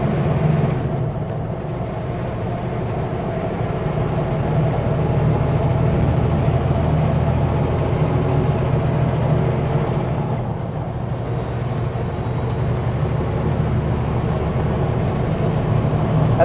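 An empty semi truck with a Super B trailer setup climbs a hill at about 70 km/h, its engine a steady, continuous low drone with road rumble that holds unchanged throughout, with no talking.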